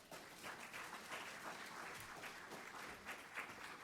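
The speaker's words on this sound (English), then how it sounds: "Give him a round of applause." An audience applauds at a speaking event, a steady round of clapping that stays fairly quiet and even across the whole stretch, with no voices over it.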